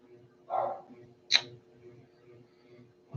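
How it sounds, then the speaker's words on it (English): A dog in a room gives two short barks, one muffled and one sharper, fairly near, with quiet background hum between them. "Why are you barking?"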